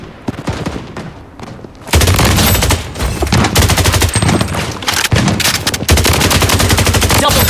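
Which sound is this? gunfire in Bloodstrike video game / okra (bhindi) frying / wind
gunfire in Bloodstrike video game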